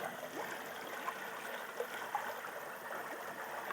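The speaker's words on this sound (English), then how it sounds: "Show people the water going in the pond." Water flows steadily into a koi pond during a spring pond cleanout, making a continuous close splashing trickle with no talking.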